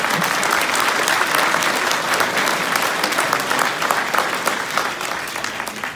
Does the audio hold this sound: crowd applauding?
yes